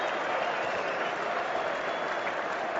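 Cricket crowd at Leeds applauding and cheering a fielding mistake during an England vs Australia one-day international, steady continuous applause that stays loud from start to finish.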